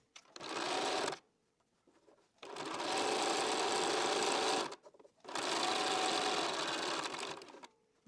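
A sewing machine stitches through a quilt in three bursts, each a rapid, even mechanical whirr lasting one to three seconds, with short quiet pauses between them.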